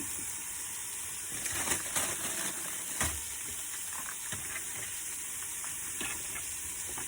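Mushroom stir fry sizzles in a pan inside a camper van, a bright hissing crackle with intermittent scraping and stirring clatter, close and steady.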